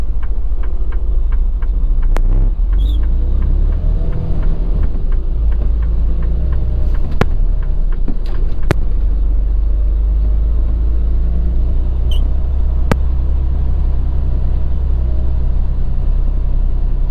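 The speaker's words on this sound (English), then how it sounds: "where are all these cars coming from?" Heavy traffic rumbles past a truck cab, with a continuous low engine drone and the swish of many cars going by on the road, plus occasional clicks and knocks inside the cab.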